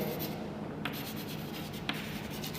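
Pen or pencil writing on paper while a maths problem is worked out, giving a soft continuous scratching and rubbing with a couple of light taps, close and steady, with no talking.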